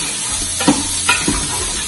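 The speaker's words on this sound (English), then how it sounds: "So here I have my pan smoking. Ooh, love that sound. And basically I'm sauteing the onions right now." Onions sautéing in a smoking-hot pan give a steady, close sizzle throughout, with a few brief stirring clatters on top and no talk.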